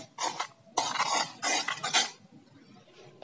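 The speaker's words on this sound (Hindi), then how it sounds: "अब हम उससे स्पून की हेल्प से अच्छे से मिक्स करेंगे।" A spoon mixes henna paste in a bowl, giving three bursts of scraping and clinking separated by short pauses.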